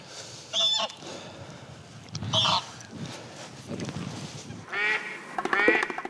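Geese used as live decoys at a French duck-hunting pond honk and call back and forth, several loud nasal bursts spaced irregularly with quieter stretches between them.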